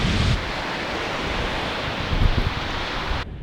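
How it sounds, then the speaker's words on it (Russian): A breeze blowing by the sea on an island shore, heard as steady broadband wind rush against the microphone with surf beneath, a brief gust swelling near the end before it cuts off. "Ветерок такой сегодня"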